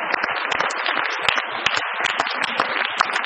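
A church congregation claps and cheers continuously during a sermon, with dense, steady applause that stays loud throughout and no talking above it.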